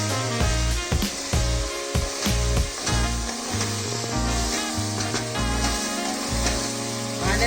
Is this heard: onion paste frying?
yes